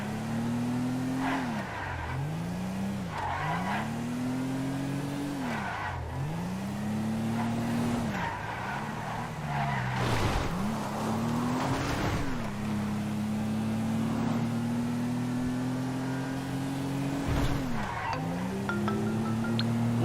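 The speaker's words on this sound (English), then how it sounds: "There's still a decent enough vehicle to drive where I've got to drive." A car in Grand Theft Auto V is driven hard, its engine rising and falling in repeated rev sweeps with gear changes, a steady close motor drone with occasional tire noise and no talk.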